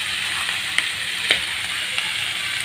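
Banana stem and grated coconut sauté in a pan, a soft steady sizzle with a few faint scraping stirs.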